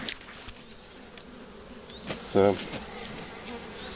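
Honeybees buzz steadily around the front of a hive on a warm April day, a dense insect hum throughout, with one louder, closer bee passing by briefly midway.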